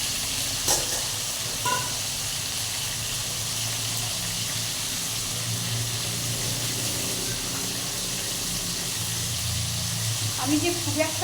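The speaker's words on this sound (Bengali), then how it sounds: "আলুটাকে আমি তেলে ভেজে নেব।" Potatoes coated in salt and turmeric fry in hot oil, giving a steady low hiss and sizzle that runs the whole time, with a few brief clinks near the start and end.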